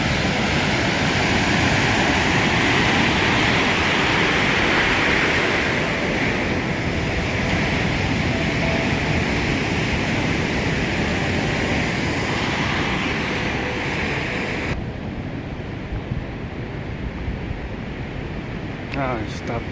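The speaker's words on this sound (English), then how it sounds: "More waves." Ocean waves crash and surge at Santa Monica Pier as a loud, continuous roar of surf fills the scene, then drops to a softer wash near the end.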